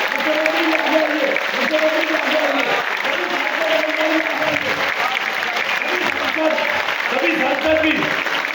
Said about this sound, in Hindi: 1 मिनट तक तालियां बजाइए। आपकी ताली लगनी चाहिए।